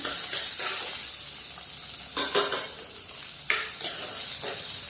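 Onions sautéing with ginger and green chilli in a pan, a steady close sizzle with a few louder scraping stirs breaking through at intervals.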